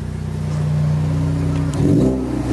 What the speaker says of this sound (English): And you can just hear that sound from this engine.